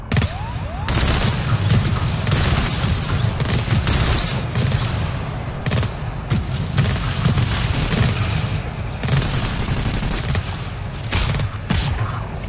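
Dense, sustained gunfire from the co-op video game GTFO, continuous bursts and rapid shots layered over a heavy low rumble, loud and unbroken throughout.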